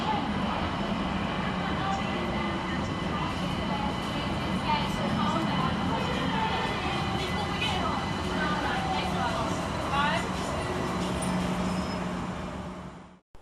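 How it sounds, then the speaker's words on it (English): London Overground train 378145 pulling into Surrey Quays station, a steady rumble with rising squeals and whines as it arrives, heard under someone talking throughout. "And here comes our train in the form of 378145, working the 1436 London Overground service"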